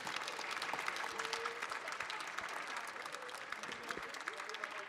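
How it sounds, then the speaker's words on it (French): Audience applause for the speakers at the close of a round table discussion, steady dense clapping from a crowd filling the whole stretch at an even level. "Je pense qu'on peut les remercier et les applaudir."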